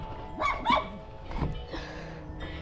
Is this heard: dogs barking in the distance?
yes